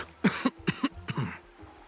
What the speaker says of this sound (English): Somewhat embarrassed, Raphael coughs a couple times.